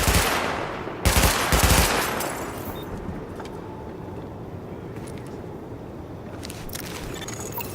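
Gunfire during a weapon test in the video game Tom Clancy's The Division, shooting at highlighted targets: a loud burst of rapid shots near the start and again around one to two seconds, then a quieter steady rumble with scattered faint reports.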